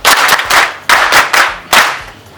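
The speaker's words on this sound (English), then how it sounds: "we are going to once again repeat a thunderous hand clap." University students at a patriotism training course give a loud, close group hand clap in three sharp, rhythmic bursts of several claps each.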